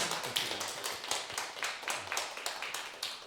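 A small group claps for a few seconds at a church Sunday service, a brisk patter of hand claps that is fairly quiet and sounds like a modest indoor gathering.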